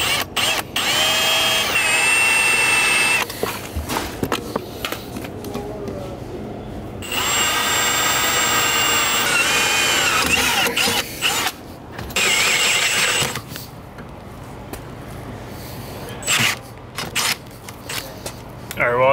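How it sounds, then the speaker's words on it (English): A power drill whines loudly in long sustained runs while drilling a pilot hole in steel, stopping and restarting several times with brief gaps between bursts. "I'm gonna re-drill a pilot right below it."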